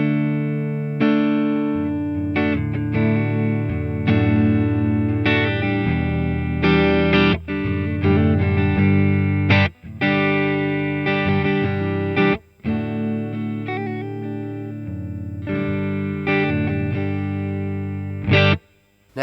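Electric guitar through a Boss Katana Mk II amp, clean channel with a light touch of reverb and EQ at halfway, plays a continuous melodic passage of single notes and chords, loud and upfront with brief gaps.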